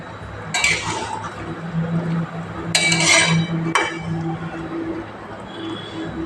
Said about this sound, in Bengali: আর একবার তলাপুর থেকে উপর পর্যন্ত নেড়ে দেব